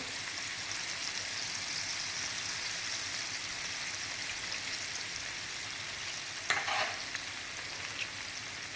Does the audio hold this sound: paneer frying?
yes